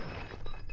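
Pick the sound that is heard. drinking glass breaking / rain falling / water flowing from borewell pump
drinking glass breaking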